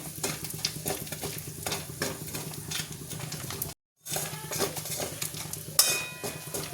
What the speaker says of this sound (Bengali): এটা ভেজে নেবো ভালো করে।